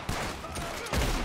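Rifle gunfire in Red Dead Redemption 2, a couple of sharp reports over a noisy game backdrop in a short burst, with a louder crack near the end, no speech.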